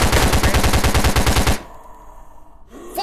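Rapid automatic gunfire from a weapon in the VRChat zombie survival game, a loud, fast burst of evenly spaced shots lasting about a second and a half before cutting off to quiet room noise.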